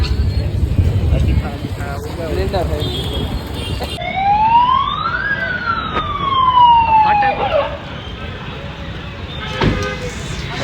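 A fire engine siren wails, rising and falling as it passes close by on a rain-hit street in Jamnagar, over road noise and voices.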